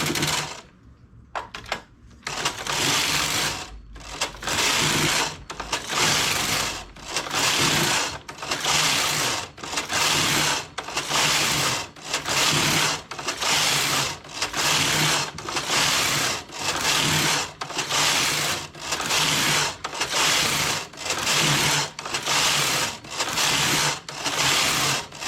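A domestic knitting machine working a punch card pattern, its carriage sweeping back and forth in loud, regular rasping passes about once a second, each with clattering mechanical texture, continuing steadily without talk.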